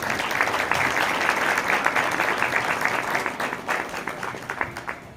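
Congregation clapping loudly at a church service, dense sustained applause from a crowd with faint voices mixed in, tapering slightly toward the end.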